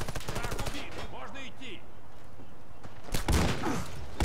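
Bursts of gunfire in the video game Warface, rapid repeated shots at the start and again near the end, with a quieter stretch of game ambience in between; no talking.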